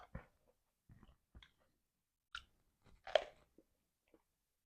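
Close, crisp crunching of food being chewed in scattered bites, with quiet pauses between the louder crunches.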